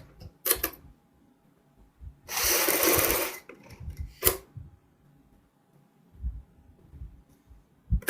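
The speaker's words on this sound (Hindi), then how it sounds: "पूरे फ्रंट में हम एक एक पैर की सिलाई लगाते हैं" A sewing machine stitches the front of a full-size jacket in one short whirring burst of about a second, set among faint clicks and handling noises in a quiet room.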